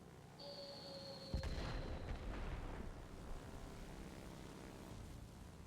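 A bomb bursts in a video game battle, a sudden deep boom followed by a rolling rumble that fades slowly under a steady droning background. No one speaks.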